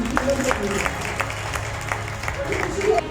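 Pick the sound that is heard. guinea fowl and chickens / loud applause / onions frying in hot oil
loud applause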